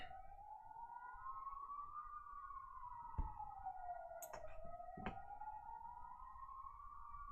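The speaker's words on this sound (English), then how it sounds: "Ambulance again." An ambulance siren wails in a slow rising and falling sweep, fairly faint and distant as it passes, with a couple of brief sharp clicks and no talking.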